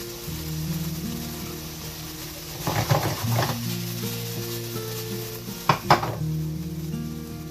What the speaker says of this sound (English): Peppers are starting to cook.